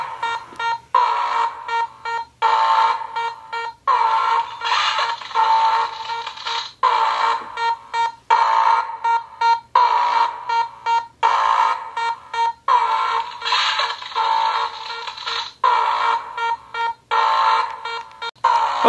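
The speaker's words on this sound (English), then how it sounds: "the alarm is going" Electronic alarm from a Beast Lab Stealth Strike experiment kit sounds loud and close, a continuous warbling beeping tone broken into rapid repeated pulses throughout.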